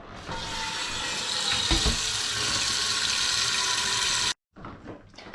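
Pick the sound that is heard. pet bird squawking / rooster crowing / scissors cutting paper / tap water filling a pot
tap water filling a pot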